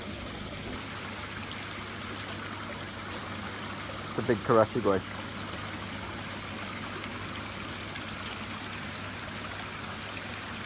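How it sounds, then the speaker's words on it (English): Water from a homemade filtration system flows over a weir into a garden koi pond, making a soft, constant trickling rush. A person speaks briefly partway through. "There at the far side of the pond I've actually got a weir. you can see where the water goes in."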